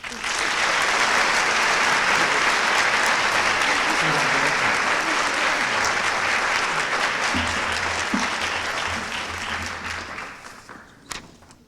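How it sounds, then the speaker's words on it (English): Audience applause at a 2014 high school senior honors convocation awards ceremony, a loud, dense, sustained wash of many hands for about ten seconds, with brief voices under it, then fading to quiet. "One more round of applause, please."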